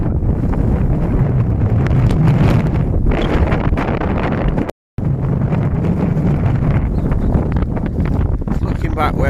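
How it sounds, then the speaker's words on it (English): Strong wind of about 9 miles an hour buffets the microphone on a spring cycle tour around Argyll, a loud, continuous rushing roar that cuts out briefly midway and then resumes. "Wind about 9 miles an hour."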